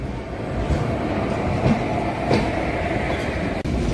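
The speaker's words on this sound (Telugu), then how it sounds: "అటుపక్క ఆయిల్ ట్యాంకర్ ఒకటి మనల్ని క్రాసింగ్ చేస్తుంది" An oil tanker goods train rolls past at a railway crossing in Rayalaseema, a steady, loud, continuous rumble of wagons with faint wheel clatter and a brief dip near the end.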